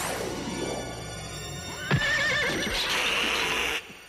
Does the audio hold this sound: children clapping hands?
no